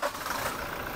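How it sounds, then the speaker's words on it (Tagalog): A car engine with an oil-leaking turbo idles just after being started, a brief, steady, close mechanical rumble with no talk. "Pyong, start mo nga para marinig nila yung tunog ng makina nito"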